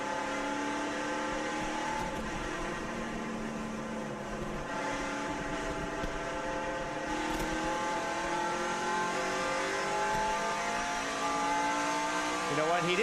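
NASCAR Cup stock cars roar as the field accelerates on a race restart, a dense, sustained engine drone with rising pitch sweeps as the pack builds speed, steady and loud throughout.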